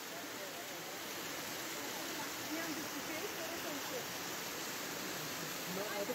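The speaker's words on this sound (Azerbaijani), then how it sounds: "Möhtəşəm şəlalə." Xalıt waterfall in the Şahdağ reserve near Şamaxı, heard as a steady broadband rush of falling water. The roar is constant and moderately loud and fills the whole stretch without pauses.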